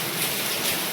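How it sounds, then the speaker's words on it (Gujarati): Heavy rain pours steadily in Ahmedabad, a dense continuous hiss of downpour close by with no voices. "તો અત્યારે ફૂલ એટલે ફૂલ વરસાદ આવે છે અમદાવાદમાં."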